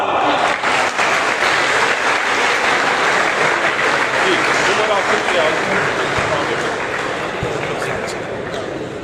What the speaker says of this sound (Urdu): بھرپور تالیوں سے استقبال کیجیے گا